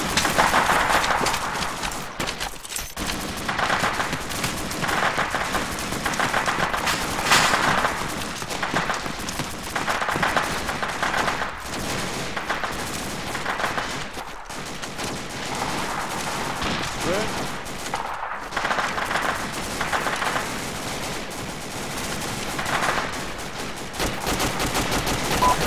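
Incoming gunfire in a tactical combat exercise: continuous bursts of distant rifle and machine-gun fire rolling on for the whole stretch, layered with a steady background roar and occasional sharper cracks, with no clear talking.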